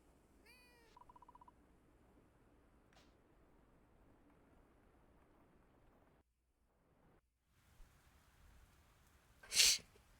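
A pet cat meows in the farming video game Fields of Mistria, a short high chirping cry near the start, followed by quiet ambience, a brief gap and a loud sharp chime near the end.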